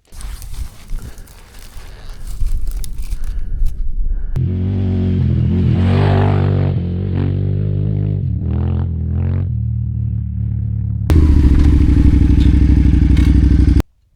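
An adventure motorcycle rides past a tripod-mounted camera, its engine rising as it nears, holding a loud steady drone through the pass and ending in a strong close-up roar before cutting off.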